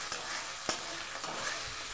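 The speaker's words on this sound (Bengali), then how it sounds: "তো চলুন এটাকে আমি একটু কষিয়ে নিই।" Spices with black pepper, chilli powder and salt stirred in a hot pan give a continuous close sizzle with a few sharp scraping taps of the spoon over two seconds.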